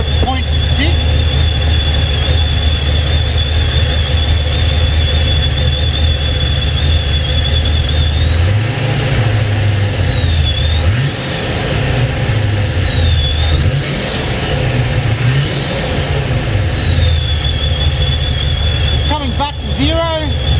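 A supercharged Holden VX engine idles on a dyno with a steady whine, then several throttle blips send the revs and supercharger squeal rising and falling, loud and close.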